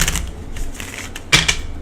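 Tarot cards riffle and slap in a few short bursts, with a sharper snap near the end, close and fairly crisp.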